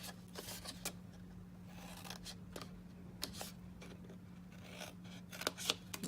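Scissors snipping paper card stock for a gingerbread man box, cutting up to a score line; faint, scattered crisp snips over a steady low hum, no talking.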